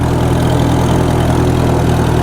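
A 1948 McCormick-Deering W-4 tractor runs steadily at idle, its rear end turning over with a loud, even, low mechanical drone up close, no voices over it.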